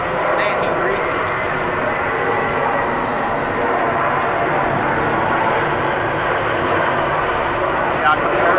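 A jet airliner landing at Atlanta airport makes a steady, loud broadband engine roar that holds evenly throughout, with people talking over it nearby.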